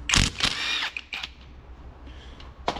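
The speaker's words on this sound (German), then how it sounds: "wir gehen jetzt wieder bei mit unserem neuen Schlagschrauber hier und lösen einmal die Schrauben" A replica Makita impact wrench loosens bolts on an IHC 733 tractor's ZF axle, giving several short, loud mechanical bursts with gaps and a quieter rattle in between.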